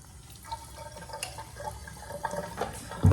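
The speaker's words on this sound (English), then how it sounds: "gonna wet my hair." Running water from a tap while hair is being wet, a steady close splashing and trickling flow with small drips and irregular surges, no talking.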